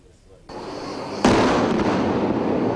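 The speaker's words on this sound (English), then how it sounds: "And those airstrikes are continuing tonight. We have heard and seen and felt them." Explosions of Israeli airstrikes on Beirut at night, a low rumble that steps up abruptly into a loud, sustained roaring blast wave, with a voice speaking over it.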